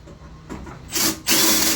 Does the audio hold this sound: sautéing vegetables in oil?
no